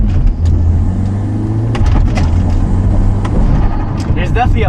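A Hyundai Genesis Coupe fitted with a K&N cold air intake runs steadily with a low droning engine note and a slight rise in revs, close and continuous under a man's speech throughout.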